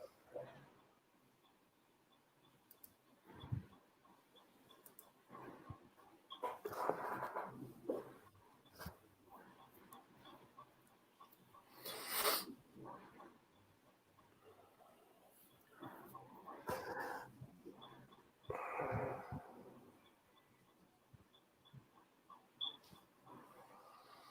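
A dog in a video ad gives soft whimpers, whines and faint yips in scattered bursts over a quiet background, fairly faint and close, with no clear talk.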